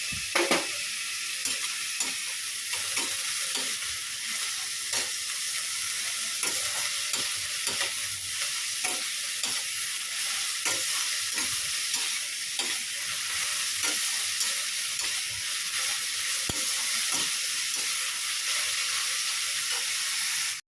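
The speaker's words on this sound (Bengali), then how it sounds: "এটা হচ্ছে চিচিঙ্গে পেঁয়াজ দিয়ে ভাজা" Snake gourd with onion and chili stir-fries in hot oil, a constant bright sizzle broken by regular spatula scrapes and taps, moderately loud and close, with no talking.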